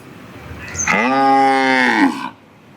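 A native-breed calf at a traditional cattle fair lets out a single loud, close moo lasting about a second, rising then holding before cutting off, with quiet surroundings before and after.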